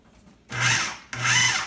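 A food processor gives dough ingredients for buns two quick whizzes, each a loud whirring burst of about half a second, with a short pause between them and no talking.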